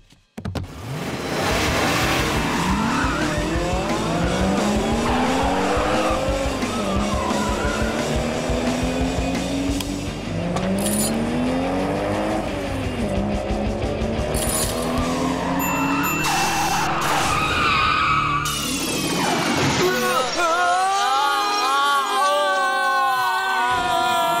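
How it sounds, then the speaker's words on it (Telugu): Race cars roar loudly through a race, their engines revving up and down in sweeping surges, with tires skidding and squealing and a crowd audible beneath the din, all close and continuous. "మోటు ఎలాగైనా సరే ఈ రేస్ లో మనం గెలిచి తీరాలి."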